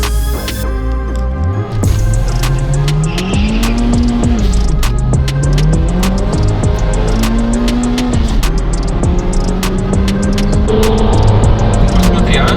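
Toyota cars race hard from a standing start: loud engines rev and climb through repeated gear changes, tires squeal and chirp, and the roar stays close and dense for the whole stretch.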